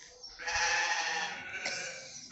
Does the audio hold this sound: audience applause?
no